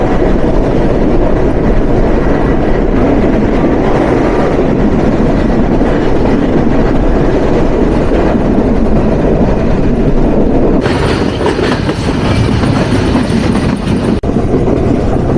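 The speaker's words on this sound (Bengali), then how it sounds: "আর অল্প কিছুক্ষণের মধ্যে আমাদের ট্রেন পার করবে সলভ রেলওয়ে স্টেশন।" The Chitra Express runs on Bangladeshi rails, a loud continuous rumble with rhythmic clatter from the wheels, heard from onboard. Partway through, the sound turns brighter and harsher as if a window or door opens.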